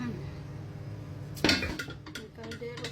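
A cooking pot and metal utensils clatter in a home kitchen: a low steady hum, then a sudden sharp metallic clank followed by a few lighter scrapes and knocks.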